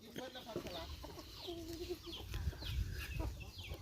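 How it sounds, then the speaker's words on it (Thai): Chickens clucking at a small Thai farm, several birds calling in short bursts over a busy outdoor background, with a low voice talking briefly under them. "เบิ่ง ไก่ของสบิวเนาะ"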